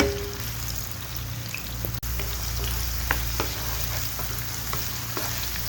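Potatoes with cumin sizzle steadily in a hot pan for an egg-and-potato breakfast dish, a continuous close frying hiss with occasional light stirring clicks and a brief thump.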